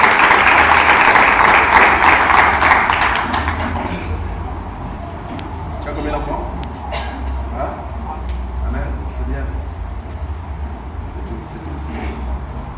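Cheering and applause from a congregation at a church prophecy service, loud and dense for the first few seconds, then fading into a lower crowd murmur with scattered voices and background noise.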